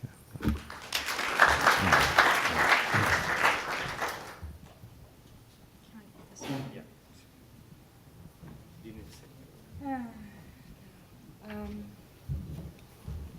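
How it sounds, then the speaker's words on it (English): Audience at a security conference applauds an introduced speaker, a burst of clapping for a few seconds that fades out, followed by quieter room noise, handling sounds and brief voices. "Let's give her a round of applause."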